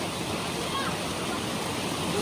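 Steady, broadband rush of a simple river flowing in General Trias, Cavite, continuous and fairly loud throughout, with no voices.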